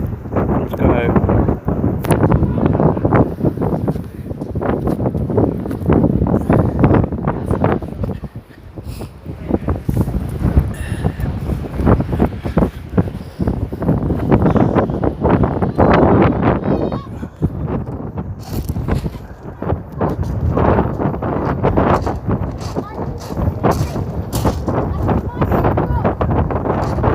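Strong coastal wind in Folkestone, Kent, buffets the microphone in heavy low rumbling gusts, nearly constant, with someone talking underneath the roar.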